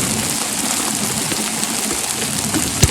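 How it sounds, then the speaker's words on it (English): Rain falls steadily on an outdoor building site for a greenhouse, a dense, even patter close by with one sharp tap near the end. "Now it's raining"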